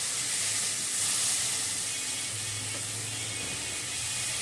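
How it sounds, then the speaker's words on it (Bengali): Garlic paste with a splash of water sautés in a pan, giving a steady, close sizzling hiss that holds evenly throughout, with no talking. "এখন আমি এটাকে একটু জল দিয়ে কষিয়ে নিচ্ছি।"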